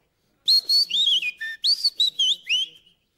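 Close, clear whistled imitation of a European robin's song by a person, a short run of high sliding and trilling notes lasting a few seconds.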